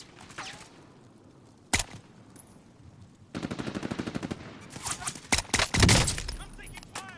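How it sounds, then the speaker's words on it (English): Gunfire in the Apex Legends video game: a single sharp shot, then rapid bursts of automatic fire with scattered louder blasts, building toward the end, mixed with in-game voices. "I'm taking fire."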